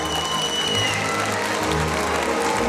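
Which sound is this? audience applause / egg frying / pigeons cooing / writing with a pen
audience applause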